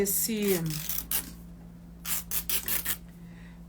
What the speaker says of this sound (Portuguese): eu vou rasgar e vou vir desfiando o meu tecido aqui